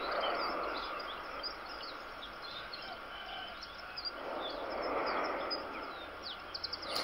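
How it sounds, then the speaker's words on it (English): Birdsong and roosters near the erupting Cumbre Vieja volcano on La Palma: scattered chirps and calls over a steady low rumbling roar, the birds faint and distant against the broad background noise. "As you will hear, the birds are singing. The cockerels are cockerelling."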